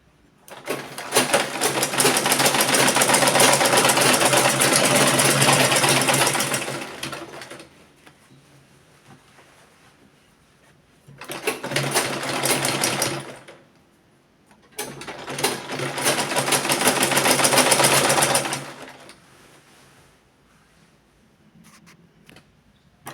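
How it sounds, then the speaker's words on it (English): A sewing machine stitching fabric for a gown runs in three bursts, a long steady whir, a short run, then another longer stitching run, with quiet pauses between. "So let's just take it to my sewing machine."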